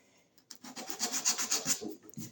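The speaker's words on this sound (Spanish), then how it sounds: "Si yo hago esto, por ejemplo, sin el taco y lijo ahí" Rapid back-and-forth rasping of sandpaper worked by hand, without a sanding block, over body filler on a hail-dented car panel; about a dozen close, scratchy strokes in quick rhythm with no talk.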